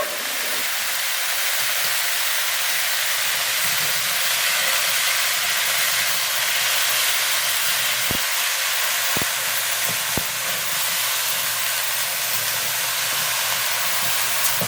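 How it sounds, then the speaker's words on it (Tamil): Potato and cauliflower pieces boiling in water with turmeric and salt for an aloo gobi gravy: a steady, loud bubbling hiss throughout, with a few faint clinks later and no talking. "கொஞ்சமாக மஞ்சத்தூளும் உப்பும் போட்டு 3/4 பதத்துக்கு வேக வச்சு எடுத்துப்போம்"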